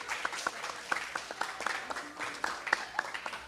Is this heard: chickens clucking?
no